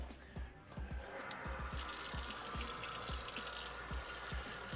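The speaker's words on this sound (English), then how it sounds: "Mix a little bit of water up like that." Water running from a tap and splashing into a small disposable dish as it is mixed with baking soda, a steady close trickle with faint taps and knocks of the dish underneath.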